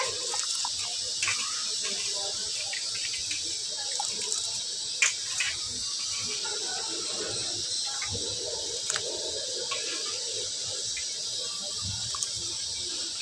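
Grains being washed by hand in water at home to remove dust, giving close swishing, sloshing and dripping sounds that come and go in irregular bursts.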